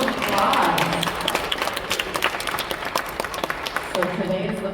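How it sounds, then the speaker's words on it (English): An audience applauds the winner of a t-shirt design contest during an anniversary celebration performance, a steady wash of claps filling the room with some thumps and a voice emerging near the end. "This is a round of applause."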